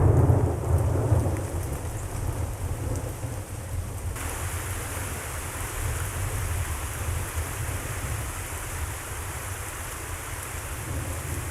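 Heavy tropical rain pours down steadily during Cuba's rainy season, a dense, continuous hiss with low rumbling thunder underneath, loud and unbroken throughout with no voices.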